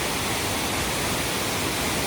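Water from natural springs rushes along a trail in the Cebu highlands of the Philippines, making a loud, continuous broadband roar with no voices over it.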